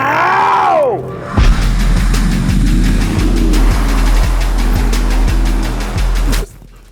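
A six-wheel Mercedes-Benz G-Class 6x6 drives with a loud, deep engine drone and repeated rhythmic thumps, likely gear shifts or bumps, building steadily before cutting off at the end.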